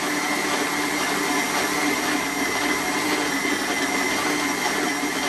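A food processor whirs loudly and continuously as it kneads tart dough for an apricot tart, a steady close motor drone with no talk.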